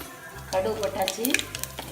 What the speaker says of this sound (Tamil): கடுகு கொட்டியாச்சு.